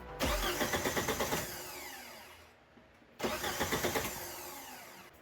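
A small engine cranks on a newly replaced starter with no fuel in the tank, giving two bursts of rapid rhythmic whirring separated by a short pause, close and fairly loud, never catching.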